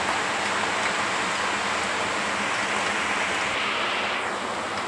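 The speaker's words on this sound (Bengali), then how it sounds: "দেখুন বাহিরে কতটা বৃষ্টি" Heavy rain falls outside in a dense, unbroken hiss that stays loud and even throughout, with no voices over it.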